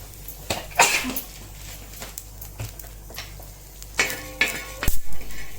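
Melon seeds roasting in a pan, close crackling and sizzling with spatula scrapes and a few metallic clinks against the pan, uneven bursts with quieter gaps between them and no talk.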